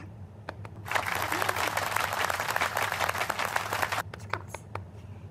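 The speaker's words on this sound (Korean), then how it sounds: "축하 박수." Short burst of applause effect, a dense crowd clapping that swells in suddenly, holds steady for a few seconds, then cuts off, leaving a few scattered claps over a low background hum.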